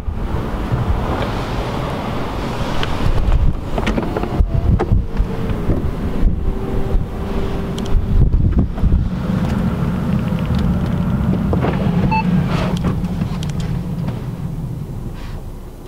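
A 2017 Audi A5 Cabriolet's fabric roof closes while the car drives at just under 20 mph, heavy wind and road rush buffeting throughout, with motor whirs and mechanical clicks and clunks as the roof moves into place.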